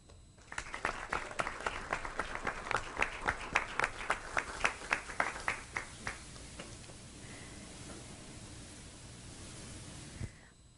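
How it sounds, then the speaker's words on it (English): Applause breaks out at a school Board of Education meeting for the middle school Students of the Month. The clapping is brisk and moderately distant for about six seconds, then thins out and fades into quiet room noise. "Let's give these wonderful RBC Chamberlain Middle School Students of the Month a round of applause."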